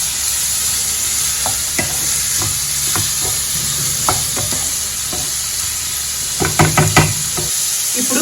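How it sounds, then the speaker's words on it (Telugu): Curry leaves sizzle loudly in hot oil for egg curry, a steady bright hiss with scattered knocks and a quick cluster of spoon scrapes near the end. "ఇప్పుడు ఇందులో కొద్దిగా కరివేపాకు కూడా వేసుకుంటున్నానండి."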